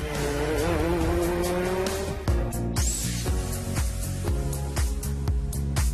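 A Peugeot 306 Maxi rally car, over 20 years old and entered in the Rallye du Var, revs hard and loud up close, its engine note rising and then snapping through rapid gear changes in a quick staccato of shifts and rev spikes.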